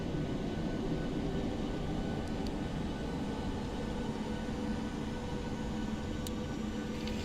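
Steady broadband roar of a Boeing 737-800 engine spooling for takeoff in a flight simulator, a continuous even rumble with no talk throughout.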